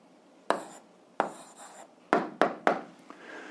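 Pen or pencil writing out the answer to an eighth-grade algebra exercise, heard as several short, close scratchy strokes in quick bursts with brief pauses between them, no voices over it.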